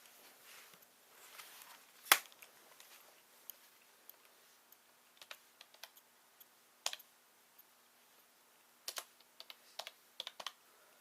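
Keystrokes on a computer keyboard as a command is typed, in irregular short bursts with pauses, fairly close and alone without talk.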